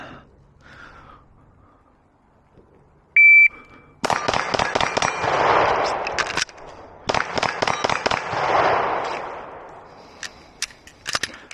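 Glock pistol fired at an outdoor range in two rapid strings of five loud, sharp shots, each string followed by ringing echo. A brief beep from a shot timer comes before the first string.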